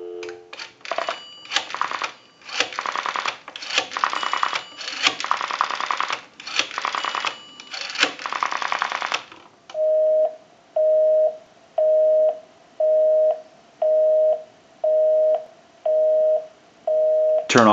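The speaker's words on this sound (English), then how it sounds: "We can call my number and it'll be busy." An Automatic Electric three-slot payphone is dialled, with a run of loud mechanical clicks and clacks, then a busy signal sounds as a string of evenly spaced, repeating tone beeps.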